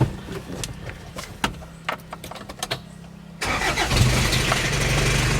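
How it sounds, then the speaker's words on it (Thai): A few quiet clicks and taps, then a pickup truck engine cranks and fires up, settling into a loud, steady idle close by. "ก็สตาร์ททีเดียวก็ ติดนะครับ ชิ่งเดียวครับก็ติดเลย"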